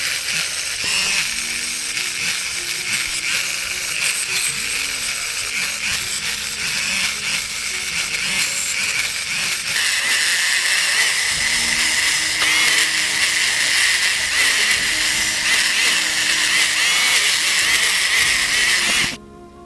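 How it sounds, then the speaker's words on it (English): An electroformed copper piece being polished on a rotary tool, giving a steady high-pitched whir with grinding friction that runs close and loud, unbroken for nearly twenty seconds before cutting off at the end. "So let's polish this up."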